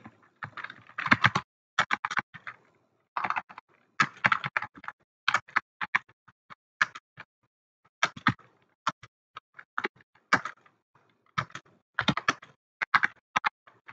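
Typing on a computer keyboard into MS Word comes as irregular bursts of close, crisp key clicks separated by brief pauses, with no talking.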